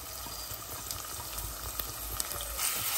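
Finely chopped onions sizzle in hot ghee over a high flame, giving a soft, steady hiss with faint crackles and no talking.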